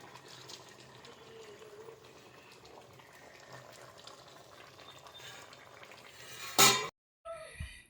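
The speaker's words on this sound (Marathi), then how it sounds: "मस्तपैकी मस्त कालवणाला उकळी आले बघू शकता" A pot of crab curry bubbles and simmers steadily for several seconds, a soft continuous burble, then a brief loud clatter and a short silence before quieter bubbling resumes.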